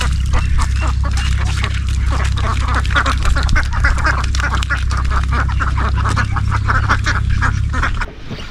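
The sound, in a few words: ducks quacking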